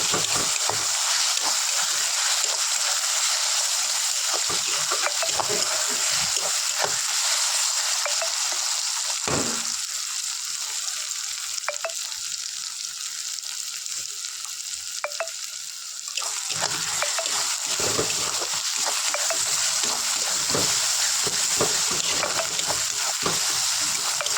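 Onions frying in a pan with ginger-garlic paste, a constant loud sizzle and hiss with scattered clicks and scrapes of stirring throughout.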